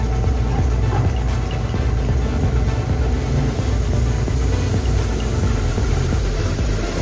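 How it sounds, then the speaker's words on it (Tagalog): Electric motor of a coin-slot power sprayer, newly unboxed and switched on for testing, runs as a steady, continuous low hum with constant loudness throughout. "So nasaksak na natin yung sa outlet, electric motor para gumana siya."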